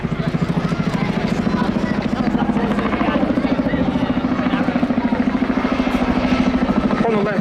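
A twin-rotor Chinook helicopter flies at an armed forces day airshow, its rapid thudding blade slap pulsing steadily and loudly throughout, with a public-address commentator talking over it.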